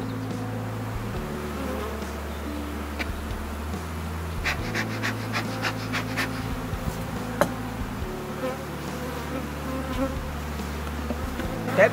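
Bees buzz continuously close by at an apiary, a droning hum that rises and falls with brief louder passes.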